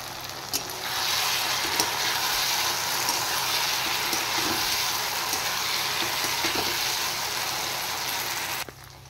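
Pre-fried eggs dropped into a hot pan, a sudden loud sizzle that starts after a faint clink and holds steady, with scattered ticks of stirring, then cuts off abruptly.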